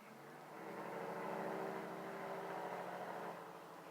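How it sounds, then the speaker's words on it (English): A truck rumbles past at moderate distance at night, swelling and then fading over a few seconds, steady low drone without voices. "there's the occasional loud-ass truck going by"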